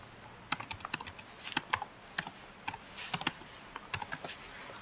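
Fingers type a UAN number on a computer keyboard, giving an irregular patter of crisp, close key clicks over a steady faint hum, with no voices.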